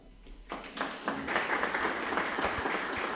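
Audience applause in a municipal council chamber at a public hearing, building after a brief quiet start into steady, dense clapping from a seated crowd that holds at moderate loudness.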